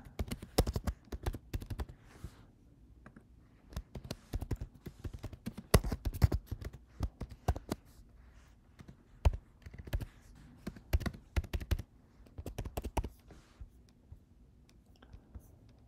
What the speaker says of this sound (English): I'll just type in my address here